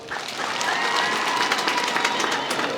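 An audience at a 2024 Mashujaa Day celebration claps for a woman at a governor's address, continuous applause from a crowd that holds steady throughout.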